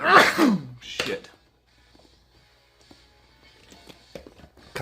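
A person coughs and sneezes at the same moment in one loud, close burst, followed by a shorter second burst and then near silence.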